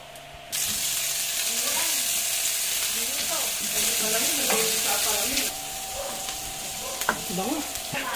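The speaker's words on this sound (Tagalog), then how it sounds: "Okay, magigisa na tayo." Garlic sautés in a hot pan, the sizzle bursting up loudly after a moment and later easing to a quieter hiss, while a person talks over the cooking.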